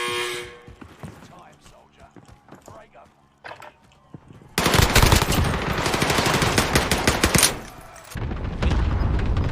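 Sustained AS-44 assault rifle fire in Warzone Pacific, loud rapid bursts that dominate the second half after quieter game sounds and footsteps, with a brief lull before another heavy burst.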